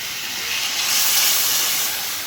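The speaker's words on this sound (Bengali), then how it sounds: "তো এই যে ঝোলের জলটা দিয়ে দিলাম" Water hits hot, browned cooked meat in a pot to make gravy, bursting into a loud, close hissing sizzle that swells and then eases slightly over a couple of seconds, with no voices.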